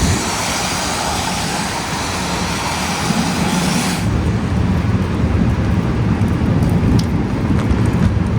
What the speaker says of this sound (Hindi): बारिश होने लग रही है